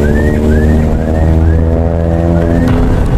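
A car engine drones loudly and steadily through an elimination race, its revving tone rising in repeated sweeps as it holds close to the listener.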